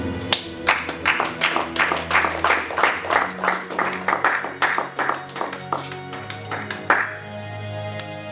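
A church congregation at a Sunday service claps rhythmically in unison, with bright, fairly close hand claps in a steady beat under a low hum, fading out near the end.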